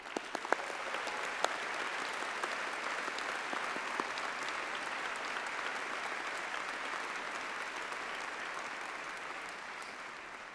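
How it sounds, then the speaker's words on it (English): Graduation ceremony audience applause, a dense, steady wash of many hands clapping that carries on at an even level for about ten seconds before tapering slightly. "join me in thanking them with a huge round of applause"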